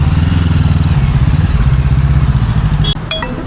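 A KTM 390 Adventure motorcycle idles loudly and close with a steady low throbbing rumble, then a few clicks and clatters near the end as it is parked.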